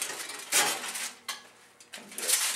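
Baked manicotti alla romana in its dish being pulled from an oven, with clattering of metal and cookware and a rack sliding, in a few short bursts close by and no voices.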